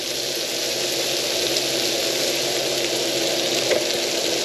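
Several garlic cloves fry in oil in a pan, giving a steady, loud broadband sizzle that holds evenly throughout with no talking.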